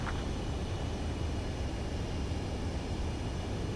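Steady, loud broadband jet roar of an aircraft on final approach to a runway in the Ace Combat 7 video game, continuous and unbroken with no distinct events.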